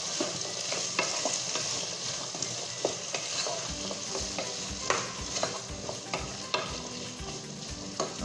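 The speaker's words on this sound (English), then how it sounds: "Okay, give it a stir." Clam chowder with black pepper is stirred in a pot, a close, continuous sizzle with regular scraping and knocking of the spoon against the pot, no voices.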